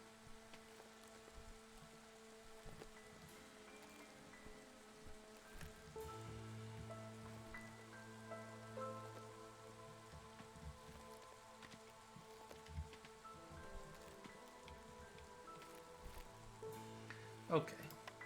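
A long drizzle in the video game Against the Storm, a steady soft patter of rain on surfaces that runs throughout, faint and even, with humming game tones and occasional small clicks layered over it.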